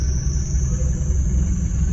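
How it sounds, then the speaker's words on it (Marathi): A car's engine rumbles low and steady as it is being parked at a paid lot near Kashi Vishwanath temple in Varanasi, with a constant high whine over the close idling drone. "दुसरी गाडी ती पार्किंग लावत आहेत"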